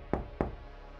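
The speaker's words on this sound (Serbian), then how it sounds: "samo sam odjednom čuo kucanje na vrata." Two sharp knocks on a wooden door, evenly spaced and close, followed by quiet.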